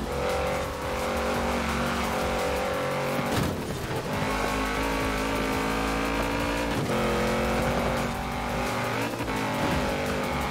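Engines of an Audi RS7 and other racing cars in Forza Horizon 4 roar continuously, loud and close, with revving, shifting and squealing tires throughout.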